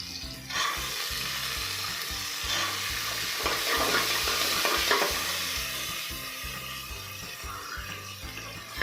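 Onions fry in a pan with soaked dried peas for capsicum rice, giving a steady close sizzle over a repeated rhythmic scraping and stirring.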